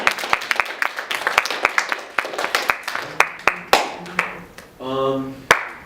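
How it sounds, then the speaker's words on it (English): Applause for an art team at a club's spring general meeting: a modest crowd's sharp, uneven claps close by, thinning toward the end, with a brief voice breaking in near the close. "another applause for the art"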